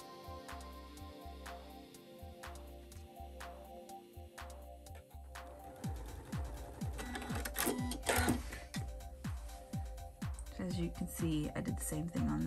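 A sewing machine set to a 2.4 stitch length sews a dart on a wedding guest dress (McCall's 8341). The close, rapid motor stitching comes in start-stop runs, partly under a speaking voice.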